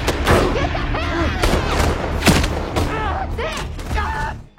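Gunfire rings out in an action-film shootout as two men trade shots from cover beside a tree, with sharp cracks and booms repeating in quick bursts alongside whooshing effects and voices in the mix.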